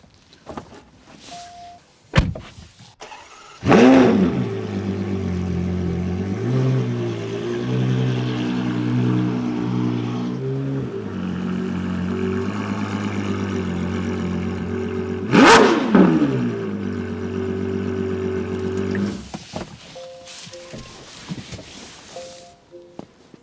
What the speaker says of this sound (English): You know that there's a V12 inside and you want to hear that V12.